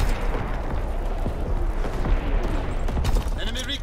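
Artillery battery firing in Call of Duty WWII online play, a dense rumbling fusillade of booms rolling continuously at close range, with game voices heard over it.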